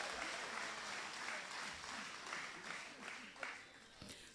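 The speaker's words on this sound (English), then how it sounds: "Give yourselves a big round of applause." A crowd at a political party's special meeting applauds faintly and steadily, the soft patter of clapping blending with a voice in the background.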